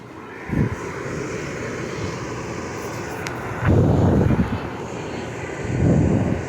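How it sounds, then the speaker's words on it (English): A dehumidifier compressor runs at startup with refrigerant flowing through the system, giving a steady broadband whoosh and hum with a few louder surges, close by and with no talk over it. "You can hear that freon going through the system."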